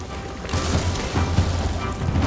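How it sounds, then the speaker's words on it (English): Bomb explosions in the action game God of War Ragnarök, heavy rumbling blasts and crashing debris that swell in loud repeated waves with a deep low boom. "Bombs."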